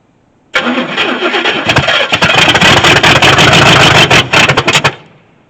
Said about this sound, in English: it'll be okay to just fire it up and see if it'll idle